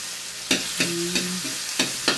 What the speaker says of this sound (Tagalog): Magigisa na po siya. May mantika. Sunod na po yung bawang.